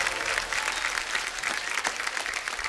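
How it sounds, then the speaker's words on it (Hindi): Studio audience applause for Shilpa Shetty, Badshah and Manoj Muntashir on a TV comedy show, a dense, steady wash of clapping holding at an even level throughout, with no voices over it. "जोरदार तालियां शिल्पा शेट्टी, बादशाह और मनोज मुंतशिर के लिए"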